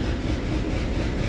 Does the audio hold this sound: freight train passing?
yes